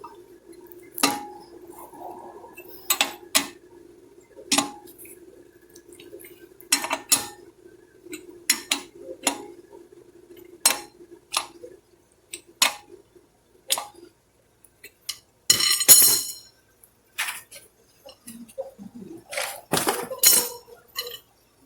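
Lug nuts on a Chevy Malibu wheel being tightened by hand with a wrench, a string of sharp metallic clicks and clinks in irregular bursts, close and fairly loud, with no talking.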